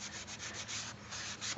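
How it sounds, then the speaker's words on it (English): A wet Scotch-Brite pad scrubs a metal vehicle frame being prepared for paint, giving a steady close abrasive rubbing with a few repeated strokes, without speech. "Get that Scotch-Brite pad, wet it up, wrap it around it, get a couple scrubs."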